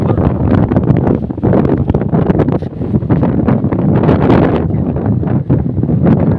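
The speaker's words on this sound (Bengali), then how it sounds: "চারদিকে বাতাস" Strong, steady wind before rain roars and buffets the microphone throughout, with gusting rumble and rustling across the whole stretch at a resort.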